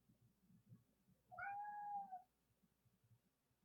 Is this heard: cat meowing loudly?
yes